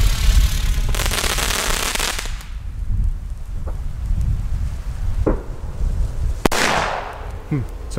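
Di Blasio Elio Cobra P1 firecrackers bang loudly outdoors: a long crackling burst near the start, then several sharp single reports spread through the rest, some followed by brief crackle, with no talk.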